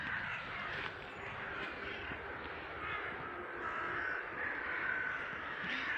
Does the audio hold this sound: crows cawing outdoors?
yes